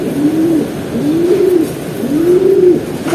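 A pigeon hen coos three times in a slow, even rhythm. The rolling coos are close and clear against a steady background hush, with no voices.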